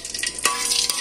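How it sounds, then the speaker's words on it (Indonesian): Steady crackling sizzle of crackers frying in hot oil, close up, with a few brief louder pops and bursts of spitting. "Iki arep goreng kerupuk"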